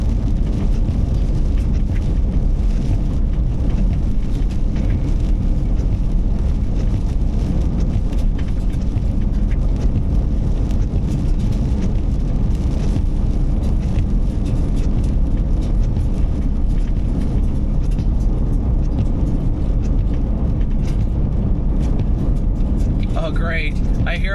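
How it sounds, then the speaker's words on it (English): Car rolling over gravel, a continuous crunching rumble of stones under the tires, steady and close throughout. "I hear all the stones getting kicked up by the car."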